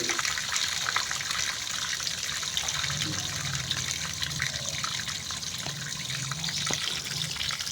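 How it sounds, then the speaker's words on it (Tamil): Tap water pours steadily into a tank whose level is falling, a continuous close rushing and trickling with no pauses and no voices. "தண்ணீர் வெளியேறிக் கொண்டிருக்கிறது"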